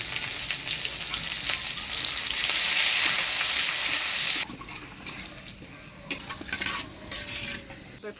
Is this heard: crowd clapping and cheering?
no